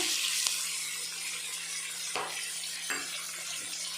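Onion, tomato and ginger garlic paste frying in a pan for paneer biryani: a soft, quiet sizzle with a few faint stirring scrapes and clicks, no voices.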